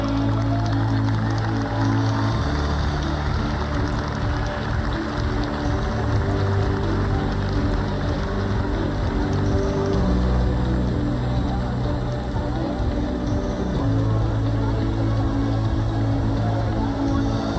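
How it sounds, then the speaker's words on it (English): Sustained crowd applause at a children's recognition ceremony, a dense even clatter of many hands clapping steadily throughout, with faint background voices underneath. "Let's congratulate them with a big round of applause"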